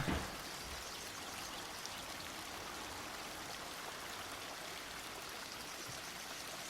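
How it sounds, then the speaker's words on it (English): Steady, dense rushing water pours continuously at an even level, like a waterfall heard up close, with no voices. "Today we are listening to Waterfall Sounds."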